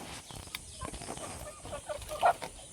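Faint clucking from a group of free-range country hens, scattered short calls over a low farmyard background, with one louder cluck near the end.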